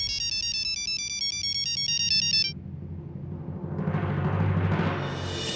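An electronic phone ringtone plays a bright repeating melody for a couple of seconds, then stops, giving way to muffled rustling and background noise.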